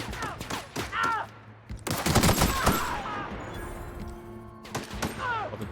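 Video game gunfire comes in rapid bursts of shots mixed with crashes and electronic effects, loud and busy, with someone talking over parts of it.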